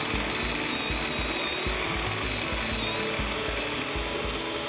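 Reed Feed Tap pressure drilling machine cutting into a pipe, giving a steady grinding whir with a rhythmic low thumping pulse, fairly close and continuous, with no talking.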